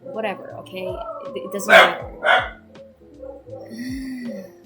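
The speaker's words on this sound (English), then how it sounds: "Please excuse my dog outside." A dog barks outside the room, a few sharp yips and barks breaking through a person's nearby speech, somewhat muffled and intermittent.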